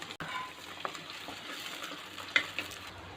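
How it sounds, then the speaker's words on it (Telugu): Onion pieces frying in hot oil for carrot patoli, a soft, steady sizzle close by with a few light clicks and stirring scrapes, no talking. "ఇప్పుడు ఉల్లిపాయ ముక్కలు వేసుకొని వేపుకోవాలి"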